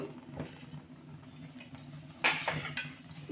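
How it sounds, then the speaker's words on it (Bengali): A utensil stirring whole cumin seeds in hot oil in a pan over a medium gas flame, with soft scraping and a few sharper metallic clinks under a low hum, fairly faint and close. "গোটা জিরেটাকে একটু নেড়ে নেব"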